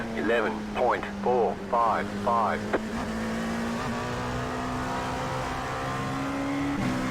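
A race car engine in the iRacing sim, on the Charlotte circuit, hums as a steady, sustained drone whose pitch creeps slowly upward. Someone talks over the first few seconds.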